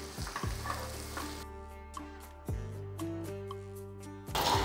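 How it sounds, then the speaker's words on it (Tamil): Rava khichdi mix sizzling and sautéing in hot oil in a pan, a steady close frying hiss with occasional stirring scrapes and clicks, no voices. "இது இந்த எண்ணெயிலே போட்டு நல்லா ஒரு வதக்கிடுங்க."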